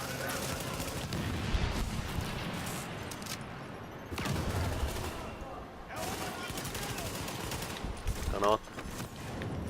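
Sustained automatic gunfire from a firefight in the video game The Division, with rapid overlapping bursts and booms rolling on for several seconds, and voices faintly mixed underneath the shooting.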